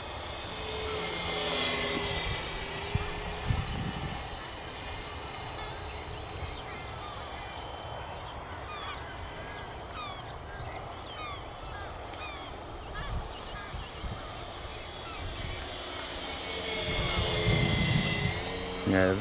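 An FMS 1400mm Piper J-3 Cub RC model airplane flies overhead, its thin electric whine rising and fading as it passes near and then away through wind noise in the open air.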